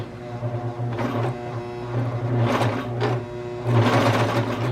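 A Brother Pacesetter cover stitch machine sews a fabric scrap, its motor whirring in short and longer bursts with steady mechanical stitching, close and moderately loud.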